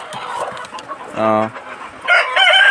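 Sonali breeder chickens in a shed, some recently sick and now recovering after antibiotics, cluck steadily nearby, with a loud rooster crow rising in the middle and more squawking at the end.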